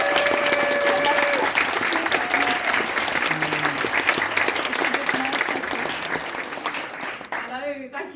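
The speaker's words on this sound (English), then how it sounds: "Can you please put your hands together for Rachel Williams?" An audience applauds a speaker being welcomed to the stage at an evening talk event: a dense, sustained wash of clapping filling the room for several seconds, with some cheering and whistles mixed in, thinning out at the end.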